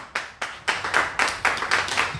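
A congregation at a French-language gospel church service claps in a quick, steady rhythm, eight or so sharp claps, close and loud with no talking.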